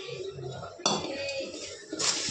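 Puffed rice for spicy khara mandakki being stirred and tossed in a box instead of a kadai, giving a steady dry rustling with a few sharp clinks and scrapes of a utensil against the container.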